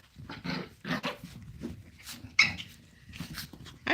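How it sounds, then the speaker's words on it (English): Chihuahuas vocalizing up close: a run of short, whiny, yappy grumbles and whimpers coming in quick uneven bursts, with no talk over them. "It almost sounds like Polly Dog saying, I don't have the equipment to be Andy."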